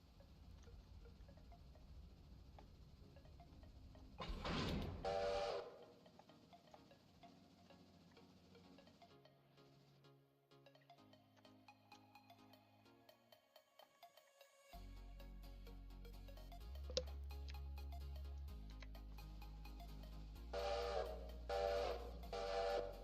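A passenger train in the game Railroader arriving into Whittier, its steam whistle sounding in two loud blasts early on and again near the end, with mechanical rumble and ticking between.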